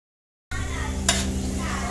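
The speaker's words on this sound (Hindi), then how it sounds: "4 प्याज जो मैंने स्लाइस करके रखी थी वो हम ऐड करेंगे। इसे ब्राउन होने देंगे हम प्याज को।" Four sliced onions hit hot oil in a pot partway through, breaking silence into a steady, loud sizzle with a brief stir or clatter, close and continuous.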